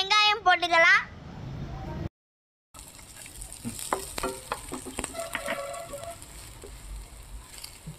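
Onions fry in a pan for mushroom rice. A short burst of voice opens, then after a brief gap a steady close sizzle continues, with occasional clatter from stirring.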